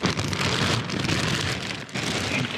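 Hard, driving rain pours down outdoors in Pennsylvania, a dense, steady roar of drops hitting surfaces close by, with no voices.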